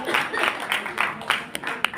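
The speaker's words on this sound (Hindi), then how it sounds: "ताली थोड़ी बजा रहे हो बता।" Audience clapping at a Haryanvi poetry recital, a short burst of scattered applause from a crowd that rises and falls in uneven waves, fairly loud and close throughout.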